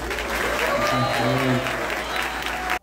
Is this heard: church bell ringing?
no